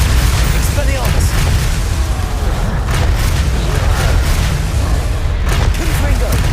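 A spell being cast in the video game Hogwarts Legacy, heard as dense booming blasts and crackling bursts that run continuously under steady game noise and a talking voice.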